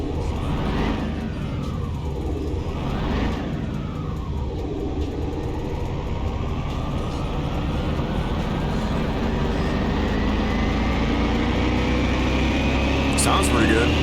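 A car engine running on a test stand in Car Mechanic Simulator 2021, a steady continuous drone with rising and falling revs, with some sweeping tonal changes, heard loud and near throughout.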